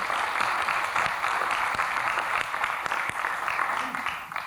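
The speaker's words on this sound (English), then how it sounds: "I think that deserves a round of applause" Delegates from many countries at a university welcome address give a round of applause, a sustained, moderately loud wash of clapping from a large hall, with faint voices beneath it.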